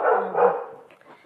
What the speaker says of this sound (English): I've got dogs going crazy.